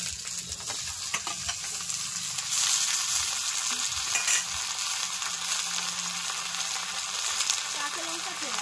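Raw, washed taro stolons (loti) go into hot oil in a pan for a village loti-prawn dish, crackling and sizzling steadily with occasional spatula knocks and stirring scrapes up close.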